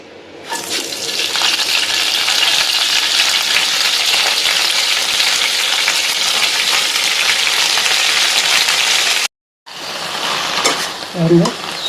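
Indian borage leaves sautéing in a little oil for a Tamil-style thokku give a steady, loud frying sizzle close up, with a brief cut-off near the end followed by renewed sizzling and a few stirring clatters.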